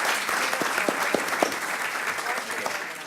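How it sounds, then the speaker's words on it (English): An audience applauds a panel at a business event, a full, even round of clapping from a sizable crowd heard close and sustained, with faint murmuring mixed underneath. "Let's give them a big round of applause."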